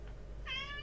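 A single short cat meow, clear and close, rising out of a low steady hum during World of Horror gameplay; it may come from the game rather than a real cat.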